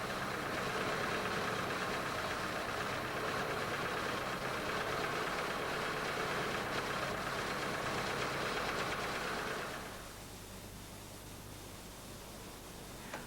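A Fiat engine with Jetronic fuel injection idles steadily in a workshop, a close, even rumble with broad hiss that drops suddenly to a quieter, smoother hum near the end, with no talk.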